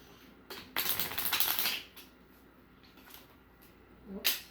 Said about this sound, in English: You can now take the cards and just give them a good mix again, shuffle them up